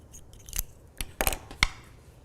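Scissors snipping through crochet yarn on a small ghost amigurumi, three or four crisp close cuts spaced out over a quiet background.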